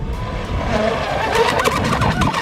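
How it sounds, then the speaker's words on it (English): A Pro Boat Veles 29-inch brushless RC catamaran runs at full throttle on open water, its loud, steady high-pitched motor whine and rushing spray continuous throughout, with no voices. "Oh, you hit full throttle, I know it."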